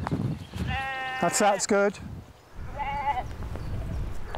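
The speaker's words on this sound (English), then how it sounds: "we've got a couple of sheep in the garden" A couple of sheep in a garden at Plas Newydd in Wales, giving several loud wavering bleats close by, with a person speaking briefly between them.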